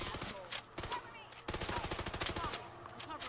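Rapid automatic gunfire from the shooter The Division 2, sharp repeated bursts with brief pauses, loud and close, with a voice talking over parts of it.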